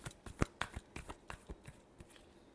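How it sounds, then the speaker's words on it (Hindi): Tarot cards shuffled by hand in a quick run of crisp riffling slaps and flicks, close and fairly quiet, fading toward the end with no talk over them. "last shuffle"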